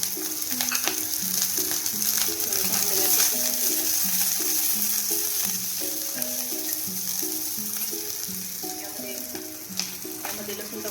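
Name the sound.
chopped onion frying in oil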